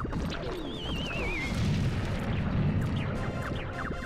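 Cannon fire in the video game Pikmin 2 Randomizer, with deep, rumbling booms in continuous succession, a wavering high whistle near the start, and scattered pops and crackles over the heavy low blasts.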